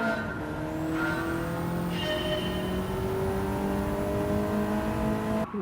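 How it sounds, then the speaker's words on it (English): A little Renault 5 racing around a track in Gran Turismo 7, its engine holding a steady, buzzing drone with slight rises in pitch as it accelerates, close and continuous, with no voices. "But first we need to take this little car on the track and get going with it."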